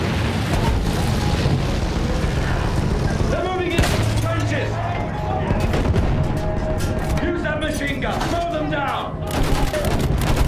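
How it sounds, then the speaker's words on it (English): Machine gun fire and battlefield chaos in the video game Battlefield 1, a dense, continuous wall of loud gunfire and explosions with shouting voices mixed throughout. "Use the MG, sweep the ground!"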